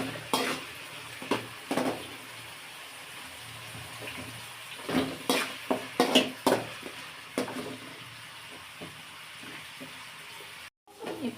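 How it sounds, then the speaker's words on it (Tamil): Onions and curry leaves frying in a pan over a low stove flame, a soft steady sizzle broken by intermittent stirring scrapes and clinks of a spoon against the pan. "இப்போ கொஞ்சம் ஃப்ரை ஆகிடுச்சு வெங்காயம்"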